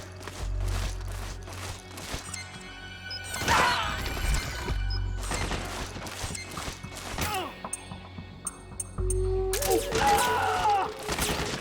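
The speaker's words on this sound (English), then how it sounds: "We're under attack! Suppressing fire!" Gunfire and crashes in the Metal Gear Solid 4 video game: sharp repeated shots and heavy smashing impacts in irregular bursts over deep rumbling, loud and close, with brief shouts from game characters.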